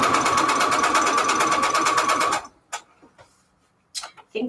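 Sewing machine stitching paper envelopes, a fast steady mechanical whirring chatter that runs loud and close for a couple of seconds, then stops, followed by a few scattered clicks and handling noises.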